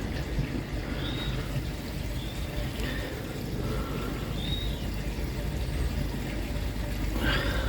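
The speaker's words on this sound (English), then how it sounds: "I'm just trying to get some water out the pond." Water scooped and poured out of a koi pond, a continuous splashing trickle at close range with a louder pour near the end.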